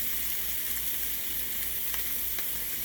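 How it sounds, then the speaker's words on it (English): Onions fry and caramelize in a pan with a dense, continuous sizzle that stays close and steady throughout, with no voices. "Now I'm just working in the onions, caramelizing it."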